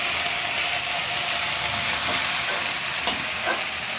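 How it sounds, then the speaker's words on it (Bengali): Potatoes frying in a pan on a home stove, giving a steady, close hiss of sizzling oil with faint scraping and occasional light clicks of stirring, no talk. "এদিকে আলু ভাজা হচ্ছে।"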